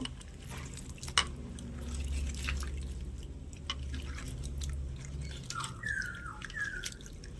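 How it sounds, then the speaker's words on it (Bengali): Cut hog plums being washed by hand in a bowl of salt water, soft splashing, dripping and squishing up close, with a few faint squeaky sounds near the end. "এবার এই লবণ জলের মধ্যে একটু ভালো করে ধুয়ে নেব"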